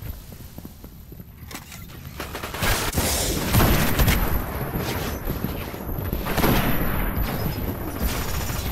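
A turret in the shooter video game Destiny fires a dense, continuous stream of gunfire with a few sharper bursts, set in a loud team deathmatch battle.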